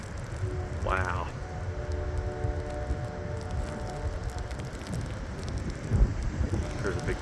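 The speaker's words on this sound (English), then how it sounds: "We're like near blizzard conditions right now because these winds are gusting pretty strong." Strong gusts sweep through a historic lake-effect blizzard in November, making a continuous, loud, blustery roar of wind and blowing snow against the microphone, with a brief voice heard under it.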